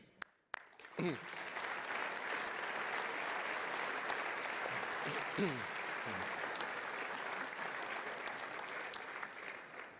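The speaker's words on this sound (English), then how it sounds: "you all deserve a round of applause for your continued efforts on and off the pitch" A football league awards ceremony audience claps steadily and evenly for about nine seconds, with a few scattered voices audible within the applause.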